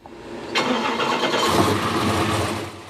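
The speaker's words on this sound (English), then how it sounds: "Our 402 fired right up." A 402 V8 engine on a test stand cranks briefly, then catches and roars to life, settling into a loud, rumbling idle close by.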